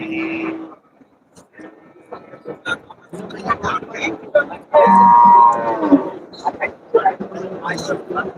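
Cattle moo loudly and repeatedly at a busy livestock market, one long low call standing out near the middle, with people talking and calling throughout and market bustle around them.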